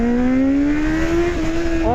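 A Kawasaki Z800 motorcycle accelerating hard, its engine note climbing steadily in pitch, loud and close, with a brief shift near the end before rising again; no voices.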